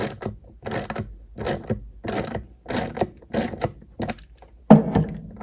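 Ratchet wrench tightening a half-inch skateboard wheel axle nut, a series of about seven separate bursts of rapid clicking with short pauses between, close and clear.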